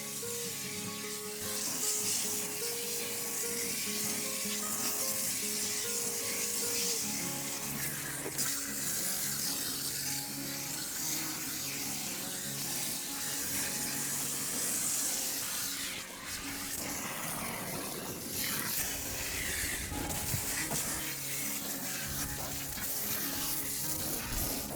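A hose nozzle sprays a steady, hissing stream of water onto potato grow bags, continuous broadband rush with shifting splatter that runs unbroken for the whole stretch.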